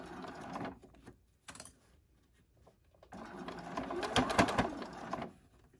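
A sewing machine stitches a zip pouch in two close bursts of rapid mechanical whirring, separated by a quiet pause, the second run longer and louder.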